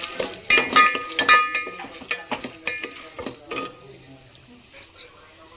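Whole spices like black and green cardamom, mace and bay leaves sizzling in hot oil for a chicken masala curry, with stirring clinks and pan scraping up close, a voice talking over it.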